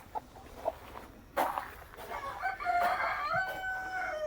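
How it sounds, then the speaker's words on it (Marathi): Hens in a village poultry shed cluck and let out drawn-out calls, close by and fairly quiet, with a few soft rustles. "अशा कोंबड्या इथं बसलेल्या आहेत"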